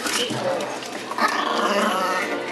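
Puppies and dogs in a mall pet store yip, whimper and bark in a busy, close jumble, with shop chatter underneath.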